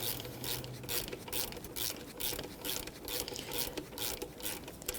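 A 12mm socket ratchets on the alternator belt adjuster of a 2014–2019 Toyota Corolla, making rapid rhythmic clicking bursts close by under a steady background hiss.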